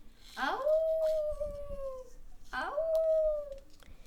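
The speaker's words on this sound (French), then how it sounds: "C'était un loup." A wolf howl used as a story sound effect: two long rising-then-steady howls, each about two seconds, clear and prominent against faint background noise.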